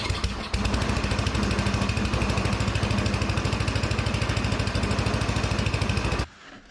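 A snowblower engine fired on a test start after a carburetor replacement roars up almost at once and runs loud and close with a rapid, even chugging beat, then cuts off abruptly near the end.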